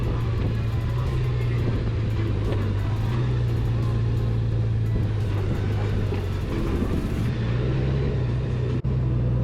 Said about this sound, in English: On the turns at the corner, you accelerate, and I feel the bike like wants to go fast